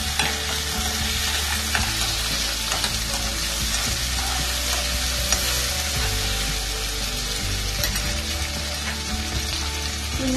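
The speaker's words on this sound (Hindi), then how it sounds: "फ्लेम को लो रखिए, ये काजू भी डाल देंगे।" Cashews tossed into a pan on a low flame for paneer butter masala, a dense, steady sizzle with faint scraping and stirring, close and continuous with no talking.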